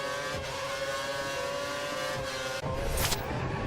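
F1 race cars at the Brazil circuit in a racing video game, a steady high whining engine drone with layered tones, a brief dip and then a louder rising rev near the end, loud and close throughout.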